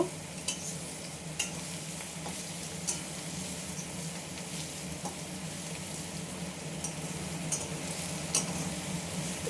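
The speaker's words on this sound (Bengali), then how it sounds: "পেঁয়াজটাকে আবার একটু নেড়ে চেড়ে ভালো করে লাল লাল করে একটু ভাজা ভাজা করে নেব।" Onions sizzle steadily in a hot pan while a spatula scrapes and stirs at irregular intervals, close up, with no talking.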